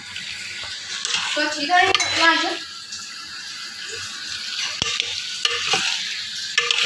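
Macaroni with capsicum mixed in a frying pan, a gentle sizzle and scraping stir under a voice, with a few sharp utensil taps against the pan.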